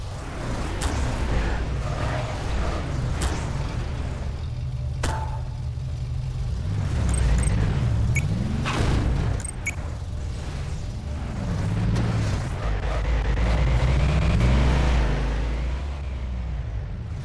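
Car engines from the K3ller Cars mod in Garry's Mod rev and drone, with the pitch rising and falling in repeated sweeps and a few sharp knocks in between. No one speaks.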